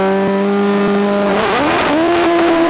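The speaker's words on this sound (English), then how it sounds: "Mark Goodyear is first away in Pat Roach's Carbon Tub OMS Suzuki." A 1600cc Carbon Tub OMS Suzuki hillclimb racing car launches at a British hillclimb, its engine note loud and close, holding a high rev before climbing sharply in pitch as it pulls away.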